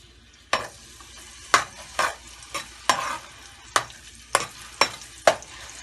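Onions frying in oil in a pan, with a steady sizzle broken by about eight sharp spatula scrapes and knocks at uneven intervals, fairly close and without talk.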